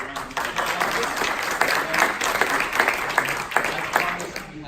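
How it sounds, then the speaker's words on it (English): An audience at a talk on heart rate variability monitoring gives a big round of applause, dense and sustained clapping from many hands filling the room for several seconds with no talk over it. "Let's give a big round of applause."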